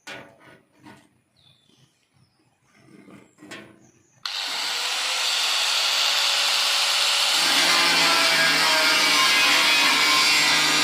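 After a few quiet handling clicks, a power cutter bites into a metal barrel to open a door for a barrel stove, then runs as a loud, sustained, close grinding screech to the end.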